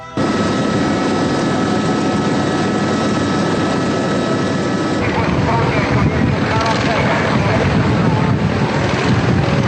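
A national gendarmerie helicopter's engine and rotor make a loud, steady whine and thrum that runs throughout, with the rotor beat growing rougher partway through.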